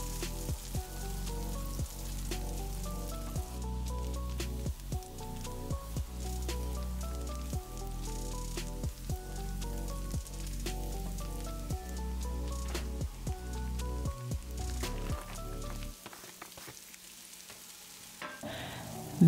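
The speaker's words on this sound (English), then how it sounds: "I did 2 tablespoons of butter and a little bit of oil" Garlic and shallots sautéing in butter and a little oil, a steady soft sizzle under a repeating rhythmic pattern of tones, fading and changing near the end.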